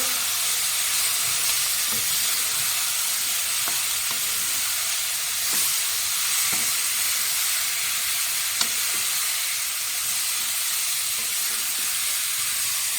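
Galgal pickle cooks slowly in a pan over a low gas flame, giving a steady soft sizzle and hiss with faint bubbling pops throughout, close and continuous with no talk.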